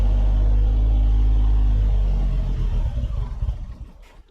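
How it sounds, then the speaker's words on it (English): A Suzuki car's engine idles with a heavy low rumble, then sputters unevenly as the car moves and cuts out, the sound faltering into near silence at the end. "the car stalled out when I moved it"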